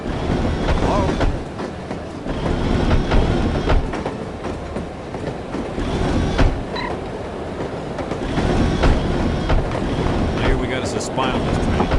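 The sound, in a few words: train running on rails, from the video game No One Lives Forever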